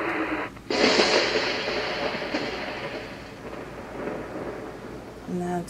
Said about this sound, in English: And that's thunder.